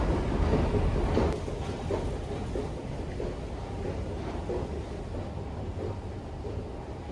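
Steady rain in Istanbul hisses and patters throughout, a dense even wash of noise with a slightly louder burst at the start.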